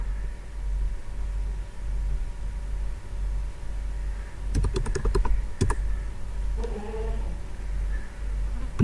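Typing on a computer keyboard while entering Excel VBA code: soft, scattered key clicks over a steady low hum, with a quick burst of several keystrokes midway and a few isolated taps afterward.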